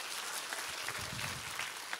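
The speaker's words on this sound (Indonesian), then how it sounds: "Tepuk tangan sama Tuhan Yesus." A church congregation applauding during a sermon, a steady broadband wash of clapping filling the space at moderate level for about two seconds.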